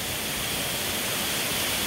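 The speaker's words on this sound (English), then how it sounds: "That's where the water's going down." Water rushing down through rainforest in Dorrigo National Park makes a steady, dense hiss, continuous and fairly close with no voices.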